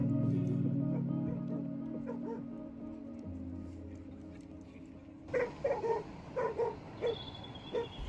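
Several dogs bark and yip in short bursts out in a park where dog walkers gather, sounding moderately close after a stretch of quieter outdoor background.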